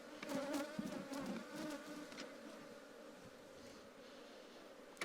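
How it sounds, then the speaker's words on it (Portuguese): A honeybee swarm buzzes in an opened hive box, a dense, steady hum of many bees close by with louder individual fly-pasts near the start. "E vou alimentar esse enxame. Para a rainha explodir na postura."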